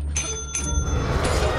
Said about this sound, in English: I was the one ringing the bell and the thing straight up ignored me.